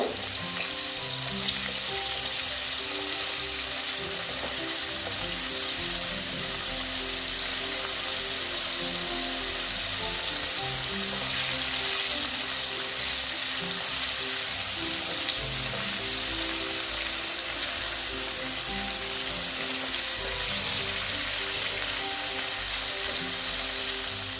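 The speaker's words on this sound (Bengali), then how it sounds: "আমি ভালো মতন ভেজে নিচ্ছি চিনিটা বাড়িয়ে দিলাম অল্প" Paneer and sugar sizzle steadily in a frying pan for a vegetarian paneer dish, a dense continuous crackle at close range with faint stirring scrapes and no talking.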